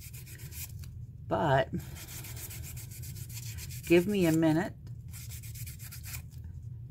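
A polymer clay bead being sanded gives a steady, soft scratchy rubbing that runs the whole time, with a person speaking briefly over it twice.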